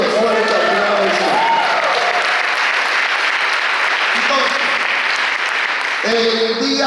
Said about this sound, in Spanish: Denle fuerte aplauso.